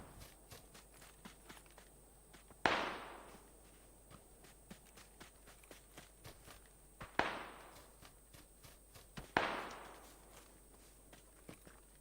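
Gunfire in the battle royale game PUBG: three distinct, fairly distant shots spaced a few seconds apart over a quiet background of light rhythmic in-game footstep-like taps.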